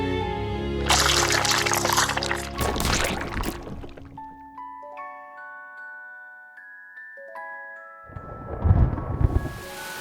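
Thunder rumbles loudly under heavy rain in two broad bursts, one at the start and one near the end, with sustained musical tones filling the quieter middle.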